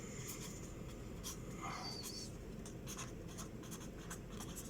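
A pen scratches across paper, writing out a rectification journal entry in a quiet room: faint, close strokes in short bursts over low background hum.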